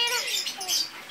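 A lovebird chick gives faint, thin high-pitched chirps close by, a brief cluster of soft cheeps over quiet background.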